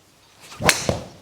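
A Titleist TSi3 driver strikes a golf ball in one sharp, loud impact crack, followed by a brief second transient as the shot flies off, otherwise quiet around it.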